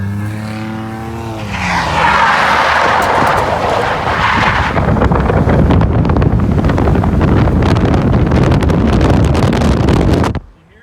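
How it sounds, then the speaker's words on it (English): Car engine revving hard through a corner wide open, loud and continuous with a rising whine and rough roar for about eight seconds before cutting off abruptly; wind buffeting on the microphone and a brief voice at the start. "You hear the turbo just spooling."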